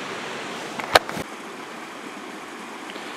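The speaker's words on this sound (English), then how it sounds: "You can see how much water's flowing." Flowing water from a stream on a rainy hiking trail, a steady faint rush, interrupted by a brief sharp knock or footstep near the start.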